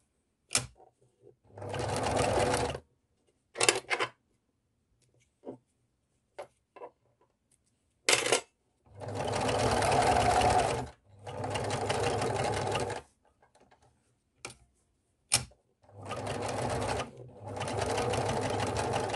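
A sewing machine topstitches fabric wipes in loud, close bursts of rapid stitching, each run lasting a couple of seconds and separated by quiet pauses with small clicks and handling taps.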